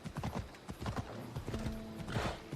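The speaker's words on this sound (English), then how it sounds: "I need a horse." Horse hooves in Assassin's Creed Odyssey clip-clop in quick, close steps, with a short neigh rising near the end.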